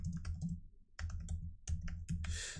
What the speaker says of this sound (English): I am not the fastest typer